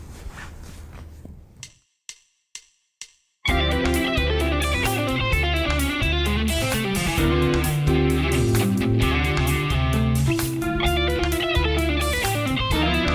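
An electric guitar plays a fast fusion lick sequenced around diatonic triads and arpeggio shapes in D Dorian over a full backing track at tempo, entering after a brief count-in of four sharp clicks and continuing loud and dense throughout.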